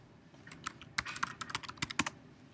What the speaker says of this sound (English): In the search box, go ahead and type in Mavericks.